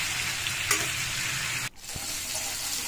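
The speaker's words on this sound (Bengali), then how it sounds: "আলু দিয়ে আগে মশলার সঙ্গে ভালোভাবে কষিয়ে নিচ্ছি" Already-fried potatoes sautéed with spices in a pan give a steady, close sizzle with stirring scrapes, broken by a brief dip near the end.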